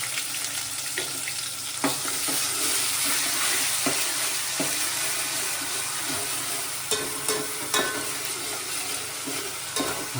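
Whole spices sizzle in hot oil as a tempering for crab curry is stirred in a pan, a steady frying hiss with scattered scraping clicks of the spoon, close and continuous.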